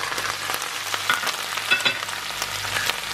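Spices and salt stirred into onions frying in a pan for a mince curry: a steady, close sizzle with scraping stir strokes and a few sharper clatters, with no talking.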